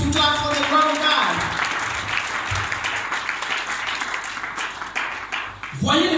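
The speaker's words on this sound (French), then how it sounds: "Somebody to clap for the glory of God." A church congregation claps together, a sustained round of hand clapping mixed with cheering voices, loud and close, with a speaker's voice rising over it near the start and again at the end.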